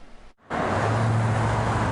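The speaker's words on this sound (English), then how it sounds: "From the traffic on US 1" Steady road traffic on US 1 in South Florida, a continuous broadband roar of cars passing close by, rising in after a brief near-silent gap and holding loud with a low engine hum throughout.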